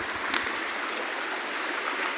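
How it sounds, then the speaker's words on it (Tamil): A small stream spilling over rocks from above, a close, steady rushing hiss of flowing water with a small splash near the start. "சரியான தண்ணி போயிட்டு இருக்கு"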